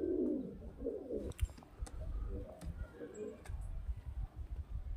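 A male Madras highflyer pigeon coos in low, throaty rolling phrases, repeated several times close by over a rumbling background.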